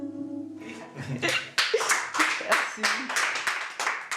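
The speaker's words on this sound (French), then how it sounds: "Le jury applaudit" Judges on a singing show clapping for a singer, a short run of brisk hand claps that swells after a fading musical note, with voices mixed in.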